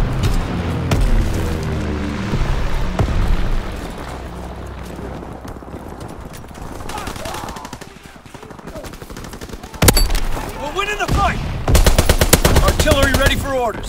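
Sustained, rapid machine-gun fire from an aircraft strafing run in Call of Duty WWII, loud and continuous with dense bursts, fading midway and then returning in sharp, heavy volleys near the end.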